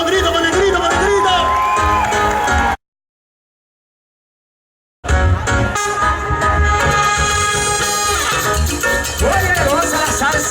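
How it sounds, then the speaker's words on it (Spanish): A live salsa orchestra audience at a Canary Islands show cheers, whoops and shouts loudly and continuously, with a full-band texture around them and a sudden two-second dropout to silence midway. "Aplauso, aplauso con grito, con el grito, con el grito."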